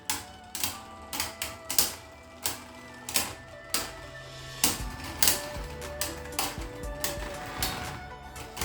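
Beyblade Burst QuadDrive spinning tops from the Collision Nebula set clash in a stadium, sharp metallic-plastic clicks and knocks repeating rapidly over a constant whirring spin, loud and close, with no talking.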